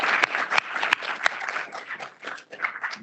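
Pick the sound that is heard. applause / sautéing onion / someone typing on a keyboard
applause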